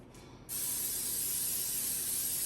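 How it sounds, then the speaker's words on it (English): A short faint hiss, then a steady continuous spray from an aerosol can of vegetable oil non-stick cooking spray, close and constant until the end. "I'm just going to use just regular vegetable oil non-stick spray"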